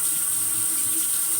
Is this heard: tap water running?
yes